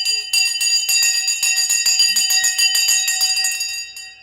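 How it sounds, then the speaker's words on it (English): Stock market opening bell rings loud and continuous, a rapid metallic clanging that runs for several seconds before fading at the end, with no one speaking over it. "There's the bell."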